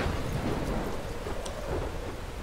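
Steady rain and rumbling thunder from the video game Life Is Strange: a constant, loud wash of downpour with low rolling thunder beneath and a few brief crackles, with no voices.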